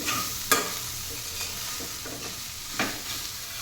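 Ivy gourd (dondakaya) fry sizzling in a pan, a steady soft hiss broken by a few sharp scraping stirs of a spatula, close and without talk.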